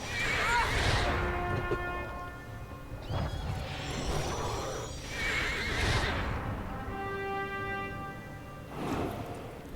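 Horses in a video game whinny repeatedly, several loud neighs in succession with hoof clip-clops between them, close and prominent.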